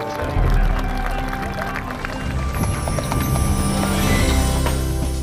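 Horses at the Landsmot horse festival in Iceland give steady, close clip-clop hoofbeats with running gait, a possible whinny and faint crowd noise in the background.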